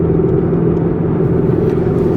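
A 2012 Chevrolet Camaro SS RS with a V8 and six-speed manual pulling along a straight road, a steady close in-cabin rumble with a low engine hum and no break in level.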